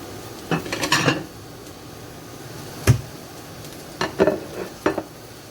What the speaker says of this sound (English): Just going to flip that meat over a little bit.